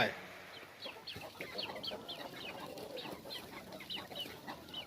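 Chickens cluck repeatedly in short overlapping bursts against a busy outdoor background, a chorus of several birds close by.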